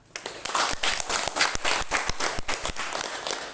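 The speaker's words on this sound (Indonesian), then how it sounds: "Tepuk tangan." Scattered applause from a small group during a coaching session, distinct individual claps landing in an uneven rhythm, fairly close and moderately loud.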